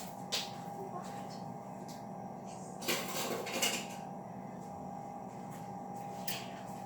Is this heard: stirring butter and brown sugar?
yes